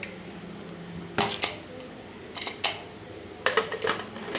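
Pressure cooker of rice being set onto a home kitchen stove, several sharp metallic clanks and scrapes in three clusters, close and fairly loud, with no talk over them.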